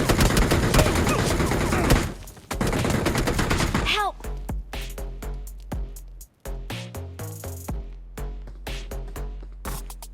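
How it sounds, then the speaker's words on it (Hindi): In the mobile battle royale game BGMI (PUBG Mobile), dense automatic gunfire rattles for a few seconds, then gives way to sharp separate shots and short bursts. Faint talk sits under the shots. "ये हम पे गोली चलाता है, मैं उस पर गोली चलाता हूँ"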